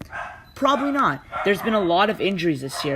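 A dog barks and yips in short bursts close to the microphone, over and around someone talking about basketball.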